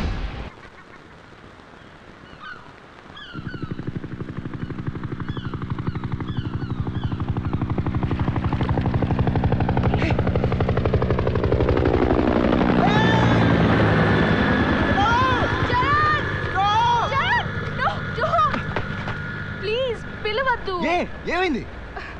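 A helicopter in a Telugu action film scene: the rotor roar swells from quiet to loud and then holds, with sharp bursts like gunfire and voices over the din.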